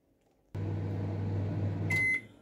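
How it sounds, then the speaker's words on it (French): Microwave oven melting butter for an apricot tart, a steady humming drone that starts abruptly, a couple of beeps near the end, then silence. "C'est que je vais le mettre directement au micro-ondes."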